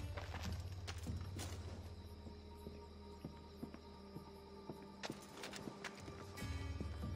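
Horse hooves in the video game Assassin's Creed Odyssey, faint clip-clop steps scattered over a steady insect-like ambience with sparse clicks and a brief swell near the end.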